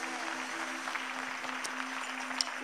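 Congregation applause during a Sunday worship service at a church, a soft, even wash of clapping with a steady low hum underneath and an occasional sharper clap.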